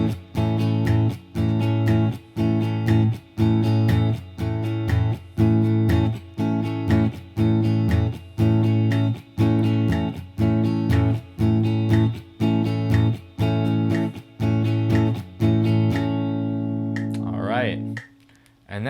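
Electric guitar strums a steady repeating rhythm pattern with the second note of each group muted, chords ringing with some distortion in regular pulses, alone and close, fading out at the end.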